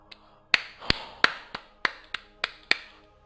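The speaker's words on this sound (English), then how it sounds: "I've actually just clapped because that's how happy I am that I didn't fail at that" Hand claps, a run of about eight sharp, crisp claps at a quick, slightly uneven rhythm, close and dry over near silence.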